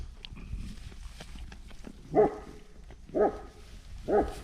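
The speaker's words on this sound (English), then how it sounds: "That's a good dog." Three separate barks from a dog, evenly spaced about a second apart, moderately close and clear over a quiet indoor background.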